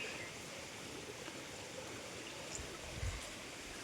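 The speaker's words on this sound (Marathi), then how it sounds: "वरून डोंगरातून पाणी झिरून खाली येत आहे" Mountain spring water trickles down from the hills in the Konkan countryside, a faint, steady watery hiss with no other sounds over it.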